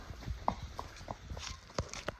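Horse hooves clip-clop in a steady walking rhythm as the horse's gait is shown, sharp close knocks recurring about every half second, with faint background noise.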